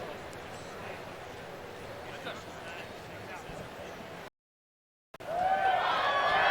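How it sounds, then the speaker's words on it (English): A crowd at an outdoor men's ski streetstyle final cheers loudly as a fallen skier stands and grabs his skis, a burst of whoops and shouts after steady crowd murmur with commentary over it and a short silent gap. "The crowd is cheering him on as he grabs his skis."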